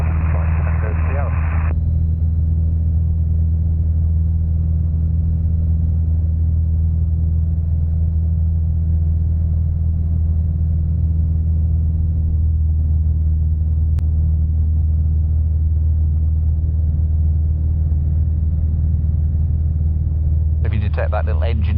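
A steady, low light aircraft engine drone runs throughout, loud and unbroken, with brief bursts of radio hiss at the start and end.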